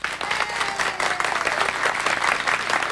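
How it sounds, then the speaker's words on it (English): Steady studio audience applause fills a television talk show set, dense and sustained clapping from many hands with no break, fairly loud and close throughout. "All in favor of kissing, signify by applause"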